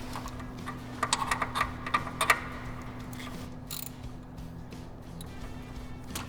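A torque wrench ratchets while tightening thermostat bolts on a Chevy Impala: a quick cluster of small, close metallic clicks, then quieter scattered ticks over a steady low hum.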